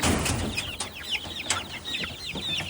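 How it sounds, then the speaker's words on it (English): Baby chicks, young laying hens hatched in a home incubator, cheep and peep in a busy chorus of short high chirps on a farm during morning chores, fairly close and continuous. "First stop, baby chicks."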